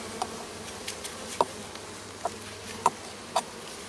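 Honeybees during a package bee installation, with a faint, steady insect hum close by, broken by a few short brighter buzzes as individual bees pass near.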